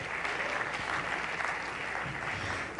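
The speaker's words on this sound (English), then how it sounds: "Give yourselves a round of applause." An audience at a Mexico City tasting event gives itself a round of applause, steady dense clapping from a large crowd heard at a moderate distance for a few seconds.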